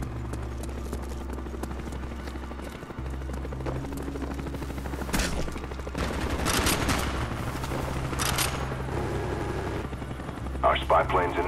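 In the Call of Duty Black Ops video game, a Cobra attack helicopter drones steadily while gunfire crackles in bursts, and game voices speak over the noise.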